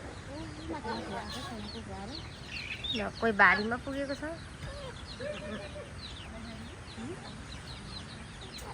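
Chickens cluck near a farm shed, a few short calls rising over a busy outdoor background while people talk nearby.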